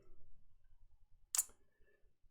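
A single sharp mouse click sounds once amid quiet low background rumble.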